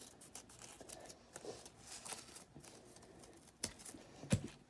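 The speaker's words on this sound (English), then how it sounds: "I'm going to cut this out." Scissors snipping through folded paper for papel picado, faint scattered small cuts and rustles in a quiet room, with two louder crisp snips near the end.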